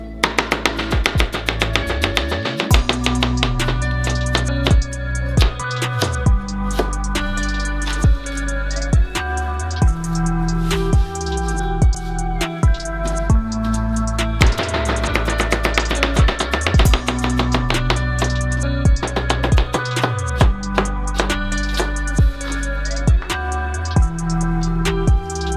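A Cooking Guild cleaver slices vegetables into thin cuts on a board, making rapid, steady chopping taps that run under loud background music.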